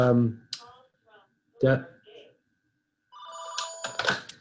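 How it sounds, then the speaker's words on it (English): A phone rings during an online meeting, a run of bright electronic ring tones in the latter half, after scattered speech from a participant. "geez, my phone's ringing"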